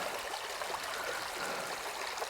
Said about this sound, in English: First sign of water, and there is water in the creek.